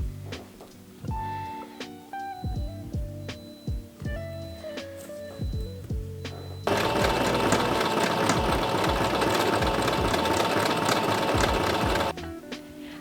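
A sewing machine sewing trim onto cosplay fabric: a few short stuttering starts and clicks first, then a loud continuous rapid stitching run that stops abruptly near the end.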